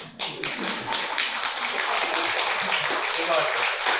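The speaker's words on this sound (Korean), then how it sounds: "가끔가다 박수도 좀 쳐주시고" Audience at a Korean national security forum hosted by Mulmangcho breaking into a burst of applause, dense steady clapping filling the room, fairly loud and sustained for several seconds.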